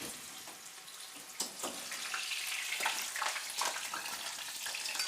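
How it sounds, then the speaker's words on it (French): Food dropped into hot oil for deep-frying at a chef's cooking challenge, a steady close bubbling sizzle with a few sharper crackles and splashes, no voices over it. "et on met à frire"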